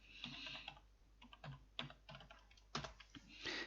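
Keystrokes on a computer keyboard entering a PowerShell cmdlet on Windows Server 2019 Core, in uneven bursts of close, crisp clicks with short pauses between, alone with no voice.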